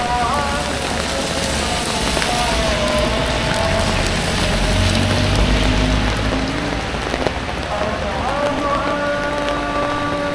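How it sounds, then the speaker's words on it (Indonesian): Heavy rain pours steadily at night in Dieng, Wonosobo, a dense, loud, continuous hiss and patter with low rumbling underneath for the whole stretch. "malam hujan"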